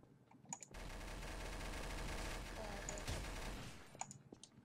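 Sustained automatic gunfire fills the middle of a round of Garry's Mod Trouble in Terrorist Town, a dense roar of shots lasting a few seconds, framed by quieter game sounds before and after.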